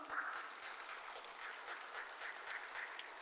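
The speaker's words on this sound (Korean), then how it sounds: "하나님 앞에 박수 올리겠습니다." A church congregation claps together in sustained, dense applause, a steady wash of hand claps filling the room without any voices over it.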